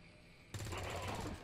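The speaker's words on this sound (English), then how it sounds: "And then we're going to shoot him." Burst of gunfire from the XCOM 2 Long War 2 strategy game, a sudden loud onset of rapid shots after a quiet lead-in, sustained for about a second before easing.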